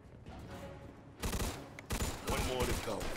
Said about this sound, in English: reload this Tommy gun real quick